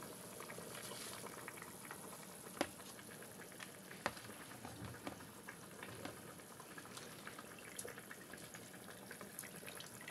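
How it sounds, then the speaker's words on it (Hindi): Beef stock boils in a pot for pulao, a steady bubbling and simmering texture with scattered pops and small splashes, close and continuous with no voices. "मेरे स्टॉक में बॉईल आ गया अच्छे से"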